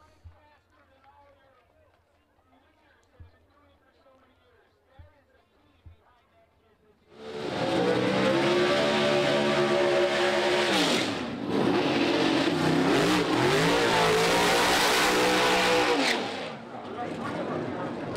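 Pro Stock doorslammer drag cars at the 2021 World Doorslammer Nationals sit near-silent at first, then erupt into a loud, sustained roar of racing engines that holds for about ten seconds, surging mid-run before cutting off.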